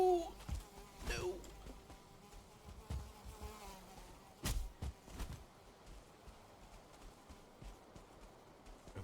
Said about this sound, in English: I hear a mosquito